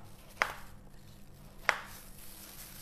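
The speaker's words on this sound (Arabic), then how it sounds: "ونقطع طماط" A knife chops tomatoes into large pieces for a chicken soup, with two sharp, separate cuts about a second apart, close and clear, and no talking.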